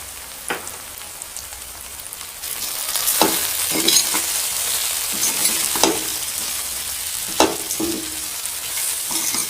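Chili powder, salt and coriander powder mixed into sweet potato in a hot pan: a steady sizzle with spoon strokes scraping and clacking at intervals, close and fairly loud, no voices.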